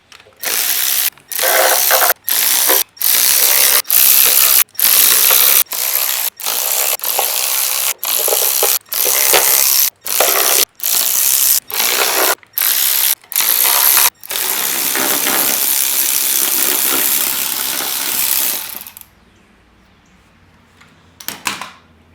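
A hand ratchet clicks rapidly in repeated bursts while oil pan bolts are backed out of an engine, with short pauses between runs, then steady spinning clicks before stopping near the end.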